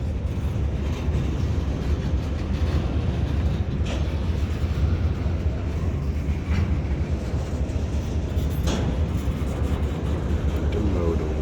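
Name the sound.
CSX intermodal freight train passing in Brunswick yard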